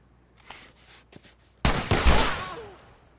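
Gunfire in The Last of Us Remastered, a sudden loud burst of a shot or two up close, ringing out after a few quieter clicks and thumps.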